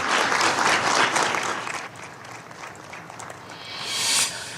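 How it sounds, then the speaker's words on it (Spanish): Sustained applause fills the United Nations Security Council chamber after a resolution vote, dense clapping that softens midway and then swells again toward the end. "Aplausos en el seno del Consejo de Seguridad de Naciones Unidas"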